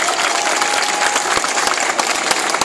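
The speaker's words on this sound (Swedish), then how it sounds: "Ge dem en applåd, det var fantastiskt faktiskt." Dense, steady applause from an audience at a Swedish event honoring the previous speakers, filling the whole stretch with sharp overlapping claps and no voices standing out.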